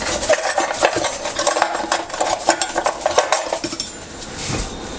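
A fork stirs ground turkey lasagna filling in a pot, with steady scraping and clinking of metal against cookware running continuously and fairly loud, close up, with no voices.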